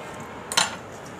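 A knife cuts through watermelon with a single short, crisp scraping slice, close and fairly loud against a quiet background.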